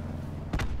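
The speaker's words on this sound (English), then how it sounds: "Throwing cluster grenade." A single sharp cluster grenade blast in Call of Duty: Black Ops 4, a brief close boom bursting out of steady game background noise.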